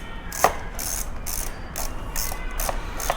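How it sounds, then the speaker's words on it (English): Ratchet driving 10mm bolts on a Honda CBR 250 R motorcycle during throttle body work: a run of about six quick, evenly spaced ratcheting bursts, close and fairly steady, with no talking. "bolt in the 4 10mm bolts We do not need to tighten them,"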